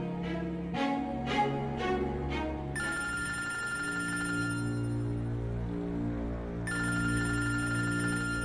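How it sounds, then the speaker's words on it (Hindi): A telephone rings in a home during a tense family moment in a drama series, sounding as steady repeated electronic tones that stop and start again over low background music. "हिना का फोन। तो अटेंड करो ना अहमद।"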